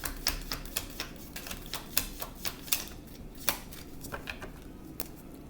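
Tarot cards being shuffled and drawn, a quick run of crisp, sharp card snaps and flicks at a fairly close distance, rhythmic and mostly alone without talk.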